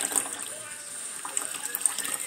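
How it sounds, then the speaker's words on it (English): Water poured steadily into a soapy soak for a bowling ball, a continuous gentle splashing trickle with faint hiss throughout. "So I'm just going to add a little bit more water."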